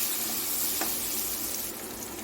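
Tomatoes fry in a pan for a cabbage curry, giving off a soft, steady sizzle with faint hiss close by and no voices.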